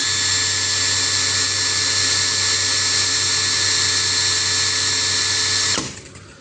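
A Dongcheng 2040i cordless drill runs at speed 2 with a loud, steady high whine held constant for several seconds, then winds down quickly as it is released.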